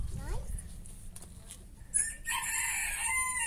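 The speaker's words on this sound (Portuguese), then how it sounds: "Olha o galo, amigo do Manny, o Galizé." A rooster crows loudly nearby toward the end, a long drawn-out call following quieter clucking and faint background noise.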